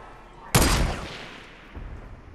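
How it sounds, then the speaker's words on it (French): A single sharp gunshot bursts out close and loud in Fortnite, trailing off in a fading echo, with a softer second report just after. "Je lui ai tiré dessus, les mecs."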